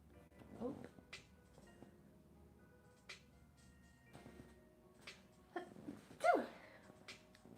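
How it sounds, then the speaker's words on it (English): A small, quiet sneeze during a digital drawing livestream, heard as a brief burst near the end amid soft background sounds. "Little sneeze."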